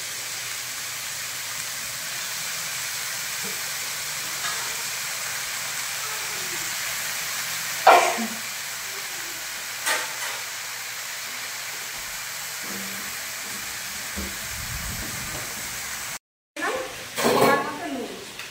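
Washed, chopped spinach hits a hot pan of well-fried spice mix for a Bengali fish and spinach dish, giving a steady close sizzle with a few louder bursts of hissing and a short break near the end.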